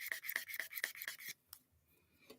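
Cuticle oil is rubbed into fingernails during an at-home manicure: a quick run of six close, dry rubbing strokes in steady rhythm, then a pause and a couple of faint scuffs.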